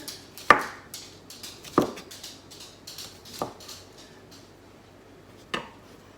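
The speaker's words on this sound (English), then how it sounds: "So I'm just going to go ahead and chop these for you." Knife chopping mushrooms on a cutting board, several sharp distinct knocks spaced irregularly with softer taps between, close and fairly quiet, no talking.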